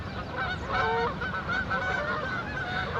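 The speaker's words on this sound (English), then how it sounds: "we got a whole flock of geese coming in here" A flock of geese flying in over a small Nebraska town honks loudly and continuously, many overlapping calls close by with no speech.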